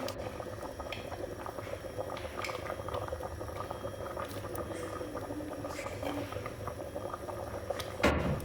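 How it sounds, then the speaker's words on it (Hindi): A pot of cauliflower and meat curry (gobi gosht) bubbles and simmers steadily on the stove, a dense close boil with small pops and a brief clatter near the end, no voices. "इसको पकाएंगे थोड़ी देर के लिए, तक जैसा पानी सूख ना जाए।"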